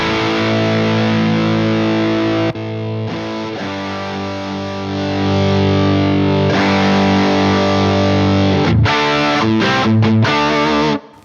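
Electric guitar played through a Marshall 1974X 18-watt handwired combo amp, loud overdriven chords and sustained notes ringing close up, with brief pauses and a final burst of choppy strums before cutting off.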